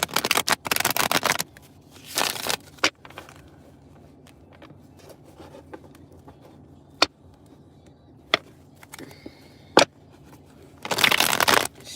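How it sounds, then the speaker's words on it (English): A deck of tarot-style reading cards being shuffled by hand, with bursts of riffling and slapping at the start, around two seconds and at the end, plus scattered single card taps in between; close and fairly loud, no talking. "Shuffle these cards up"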